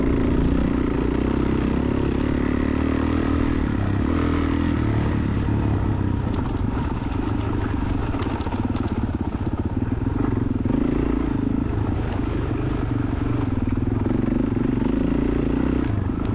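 A 2003 Suzuki DRZ400 dirt bike's engine drones steadily and loudly up close while riding a motocross cross-country course, with rattling clatter and shifting revs throughout.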